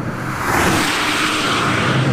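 Volvo C40 Recharge, a 408 hp electric car, accelerating hard: a rising whoosh of wind and road noise that swells after a brief moment and holds loud, with no voices.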